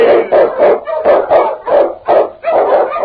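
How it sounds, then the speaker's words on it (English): Eskimo husky sled dogs bark and howl close by in a storm and snow, with a rapid, rhythmic run of loud overlapping barks and yips broken by brief pauses. "The Wonder Dog King, swiftest and strongest of Eskimo lead dogs, blazes the trail through storm and snow"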